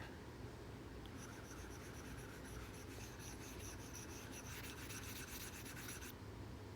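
Writing being erased from a board, a faint, soft rubbing and scrubbing texture that runs for several seconds over a low background hiss, then stops.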